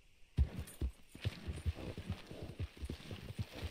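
A horse's hooves clip-clop at a steady walk in Red Dead Redemption 2, a rhythmic series of low, soft thuds with a faint jingle of tack, fairly quiet and without speech.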